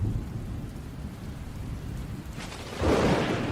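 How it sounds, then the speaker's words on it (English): The first rain of the season arrives over the flat Liuwa plain in Zambia, a soft steady patter under a low thunder rumble that swells near the end. "With the first drops of rain"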